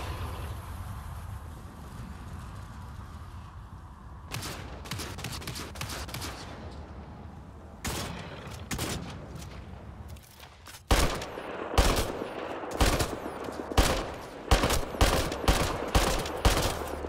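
Gunfire in the shooter Mass Effect: Andromeda: after a quieter rumbling start, sharp bursts of automatic fire break out, then grow into dense, loud, rapid volleys near the end.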